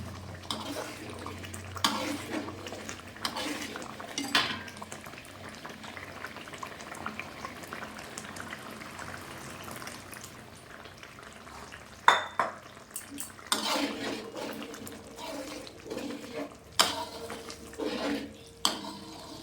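Thick chicken korma gravy bubbles and is stirred around a kadai over high gas, soft simmering with intermittent scraping and clattering strokes of a spoon against the pan, no talking.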